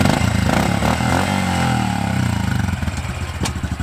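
Polaris RZR Turbo S engine pulling at about three-quarter throttle in second gear while climbing onto a car, a loud, close, throbbing mechanical roar with pulsing low-end rumble throughout.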